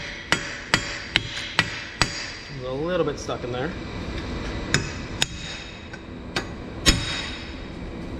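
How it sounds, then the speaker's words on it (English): Hammer tapping on a Volkswagen MK3 axle differential flange during a transmission swap, with a quick run of sharp metallic taps, then someone speaking briefly, then a few more spaced strikes. "We're going to get our hammer and tap this out."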